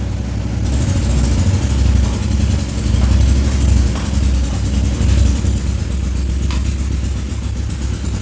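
Steady engine noise from vehicles in a market setting, with a constant low idling rumble and occasional revving swells that stay loud and close throughout the clip.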